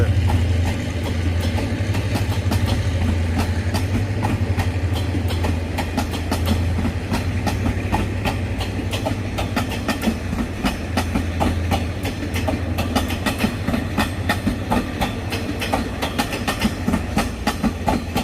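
A Hitachi 4506 diesel locomotive roars steadily as it pulls a train out of Bang Sue Junction, with a loud, continuous low engine drone and rhythmic clickety-clack of wheels over rail joints throughout.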